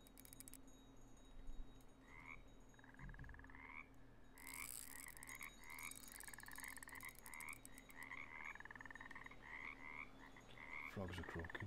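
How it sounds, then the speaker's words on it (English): Frogs croak in the game Russian Fishing 4, a series of repeated rhythmic croaks in short clustered bursts over a low ambient hum, with a brief clatter near the end. "Frogs are croaking."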